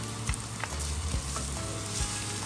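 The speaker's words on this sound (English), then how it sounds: "About 2 tablespoons of olive oil. Onions in. Saute it. Then garlic in." Onions and garlic sautéing in about two tablespoons of olive oil for Filipino chicken and pork afritada, a constant crackling sizzle with a few soft knocks of the spoon, no voices.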